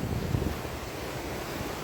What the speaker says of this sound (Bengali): দেখছেন সাগরের ঢেউগুলো বর্তমান আছে কিন্তু সেই বড় বড় ঢেউ উঠছে।